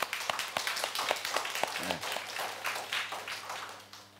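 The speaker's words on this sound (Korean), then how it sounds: "남성교회 한번 박수 한번 합시다." A church congregation claps together, a steady patter of many hands filling the room for about four seconds, with a brief voice briefly heard over the clapping.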